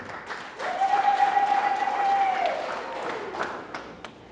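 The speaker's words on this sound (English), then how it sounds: "So we must give them a round of applause." Audience at a resort complex launch in Zimbabwe gives a round of applause, moderate steady clapping building up and then tapering into a few scattered claps, with a sustained tone held partway through.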